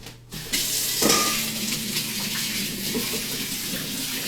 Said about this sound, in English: I'm gonna rinse the scraper off. I'm also gonna rinse my hands off real fast.